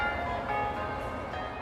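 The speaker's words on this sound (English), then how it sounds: "then came the quarter peal of 8 church bells" Quarter peal of eight church bells ringing in a dense, continuous wash of tones, fairly faint and distant, heard outdoors during a Thames river pageant.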